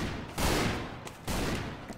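Rapid bursts of gunfire from the Half-Life 2 mod Double Action: Boogaloo come in two loud volleys, each a dense crackle of shots, with no voices over them.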